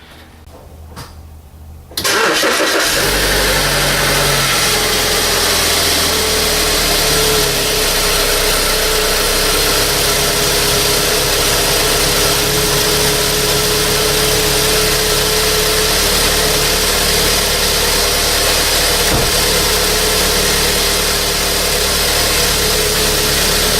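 A 2009 BMW E87 118i engine cranks and catches after a quiet couple of seconds, then settles into a loud, steady idle that hums on without change.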